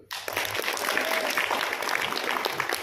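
Seminar audience in Bandung clapping together at a business success event, a steady dense wash of applause that starts abruptly and holds fairly loud throughout, with faint voices mixed in.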